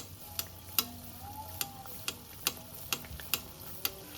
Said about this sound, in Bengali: এবার খুব সুন্দরভাবে মালপোয়াটা ভেজে নিচ্ছি।